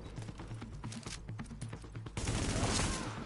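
Gunfire in the video game The Division, a rapid series of sharp shots in quick rhythm followed by a louder, denser burst of noise like an explosion or heavy fire.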